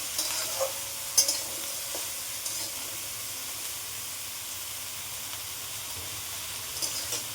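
Ash gourd vegetables sizzle and hiss in a frying pan as they are stirred, a steady close frying sound with occasional light scrapes and taps, and no one speaking.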